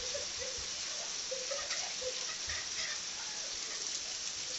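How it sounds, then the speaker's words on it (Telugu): Heavy rain pours down steadily in a dense, even hiss, close and constant, with faint scattered sounds beneath it. "చూడండి ఎంత పెద్ద వర్షమో"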